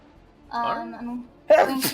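A single loud sneeze bursts out near the end, just after a person speaks briefly, with a short preceding inhale.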